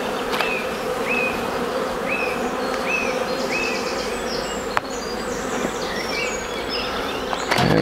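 Honeybees at an open Dadant hive of the Brother Adam strain buzz in a dense, steady, close drone, with faint high chirps scattered in the background.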